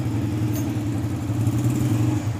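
A 2005 Honda CG125 motorcycle engine running steadily, an even, throbbing mid-low drone close by and fairly loud, with a faint brief click partway through and no talk.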